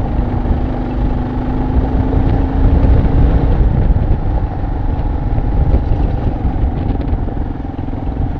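A Kawasaki KLR dual sport motorcycle rides a rocky mountain trail, its engine a steady close rumble mixed with wind buffeting and jingling, rattling bodywork throughout.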